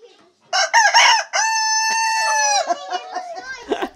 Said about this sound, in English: These darn roosters.